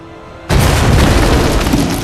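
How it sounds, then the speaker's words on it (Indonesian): A film explosion blows out the back wall of a bunker: after a faint lead-in, a loud, close blast erupts and roars on as a broad, rumbling wash of debris for about a second and a half before cutting off. "Selanjutnya mereka pun meledakkan dinding bagian belakang bunker"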